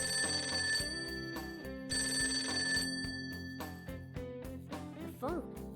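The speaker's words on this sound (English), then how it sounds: "The phone." A phone rings in Persona 5, its electronic ringtone repeating in bursts over background music, with a voice briefly speaking near the end.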